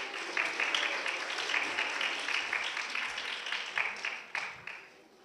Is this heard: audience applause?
yes